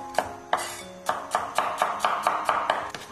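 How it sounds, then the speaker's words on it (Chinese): A knife slices garlic cloves on a cutting board in about nine crisp, evenly spaced chops, close and distinct, with no talking. "准备几瓣蒜子，先给它切蒜片"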